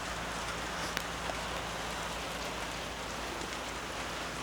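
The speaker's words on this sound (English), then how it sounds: "It started raining on us today." Steady rain falls outside a workshop where a rusty Mustang undergoing a rebuild has just arrived, a dense, even patter that stays constant throughout with no talking.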